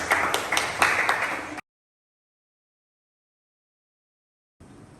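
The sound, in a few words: applause for team A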